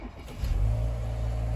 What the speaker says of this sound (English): I'll turn the car on now